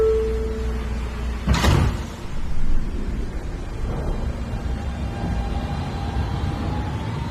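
Doors of an R160B Siemens subway car sliding shut with a single heavy thud, followed by the low rumble of the train interior and a faint rising motor whine as it pulls away.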